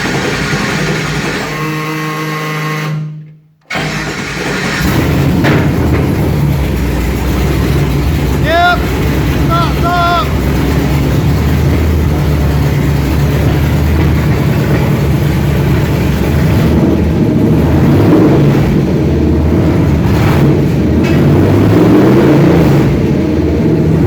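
A 2020 truck with a massive fuel pump fires up after a brief hush, then settles into a loud, steady engine roar and rumble that carries on for around twenty seconds, with a few short tones briefly rising over it.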